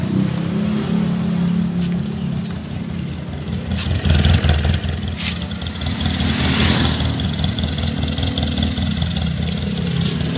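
A 1987 Suzuki Carry Extra engine running close by, idling with a rough mechanical rattle, then revving hard and settling back, loud and alone.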